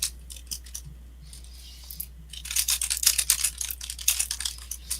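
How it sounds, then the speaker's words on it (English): Quick clicks of a computer keyboard come in a soft scattered burst, then grow into a faster, louder run of typing over a low steady hum. "You're just, like, typing"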